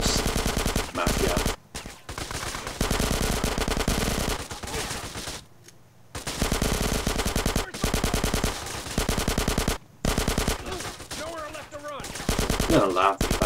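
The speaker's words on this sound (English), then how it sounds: "Everyone's shooting everyone." Sustained automatic gunfire from a GTA San Andreas shootout between SWAT and mafia gangsters, loud rapid bursts rattling almost nonstop with a few brief pauses, and a voice faintly under the barrage.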